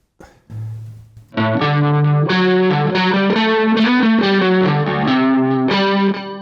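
Bass guitar played through a chorus pedal with added echo and distortion, a loud, shimmering, wobbling line of sustained notes that starts after a few quiet string touches and carries on without talk.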